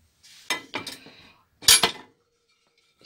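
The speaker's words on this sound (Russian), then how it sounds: "Разгружаю посудомойку." Dishes being unloaded from a dishwasher in a home kitchen: a few separate clinks and clatters of plates and cutlery, close and fairly quiet, with short pauses between.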